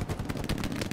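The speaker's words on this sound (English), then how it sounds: "They're shooting at me." Dense gunfire from enemy positions in Hell Let Loose, a World War II shooter, with rapid overlapping shots and a possible machine gun crackling continuously and loudly with no pause.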